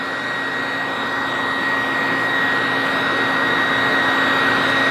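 Blow dryer running on a Shih Tzu puppy's coat during grooming, a steady loud whirring airflow with a constant motor whine that holds unbroken throughout, no voices.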